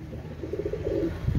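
Close, low cooing from fancy pigeons, including teddy and Oman teddy types, some sitting on eggs, in a continuous soft rolling call over about a second and a half, with no voices.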